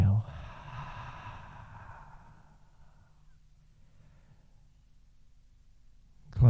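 A long, slow exhale during yin yoga breathing, close and soft, fading gradually into near silence over several seconds before a brief sound at the end.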